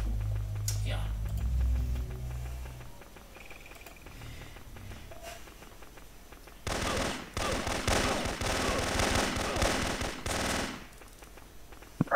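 Gunfire in the PS1 video game Arkadyzja, a rapid machine-gun burst lasting a few seconds in the second half, preceded by quieter game sounds and brief talk.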